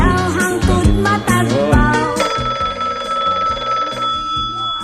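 A telephone rings repeatedly and loudly with a caller waiting on the line of a call-in radio show, the bell pulsing steadily over a busy background.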